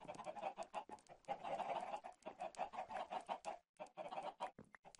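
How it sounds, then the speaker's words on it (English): A crowded flock of farm chickens in Agarian Skies clucks and squawks continuously, many birds overlapping at close range with busy, choppy rhythm and a brief pause near the end. "The family of Mexican chickens"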